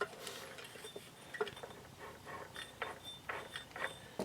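A new clutch basket being turned by hand in a 1975 Suzuki GT750 engine, heard as close, light metallic clicking, ticking and faint clinks of gears and mechanism across the few seconds, without talk.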